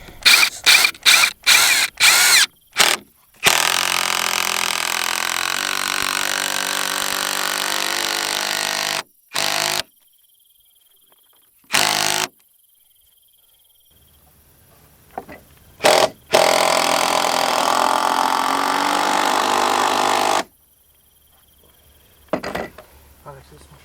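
A power drill drives screws into a wooden pallet deck at an off-grid build. A few quick taps open it, followed by two long whining runs that shift pitch as the screws bite, separated by stretches of quiet and short blips.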